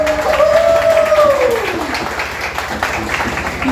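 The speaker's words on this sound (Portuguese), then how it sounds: "salva de palmas!" Audience applause at a community cultural evening, moderate clapping from a crowd under a sliding tonal sound and some background voices, steady for a few seconds.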